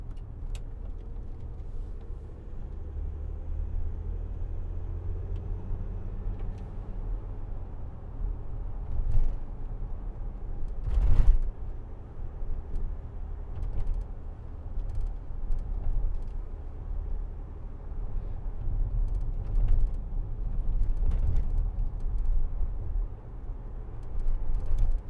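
Land Rover Discovery 4 3.0 SDV6 HSE diesel driving, a steady low engine and road rumble heard from inside the cabin, with a few brief bumps and knocks over the continuous drone.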